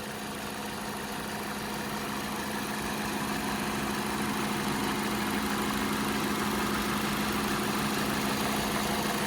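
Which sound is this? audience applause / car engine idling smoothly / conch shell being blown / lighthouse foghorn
car engine idling smoothly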